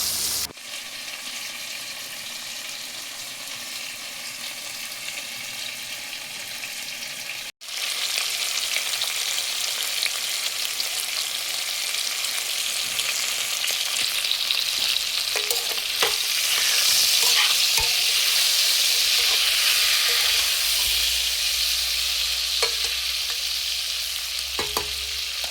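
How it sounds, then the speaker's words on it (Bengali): Fish frying in hot oil in a kadai with dried red chillies, a steady loud sizzle with stirring and scraping that swells toward the end, no talking. "তো এই দেখো মাছগুলো এখন ভেজে নিচ্ছি"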